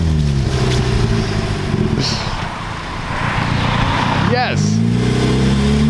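A car engine holds high revs during a burnout, dipping and surging again with a rising whine as the tires spin, loud and close, with a brief spoken word over it.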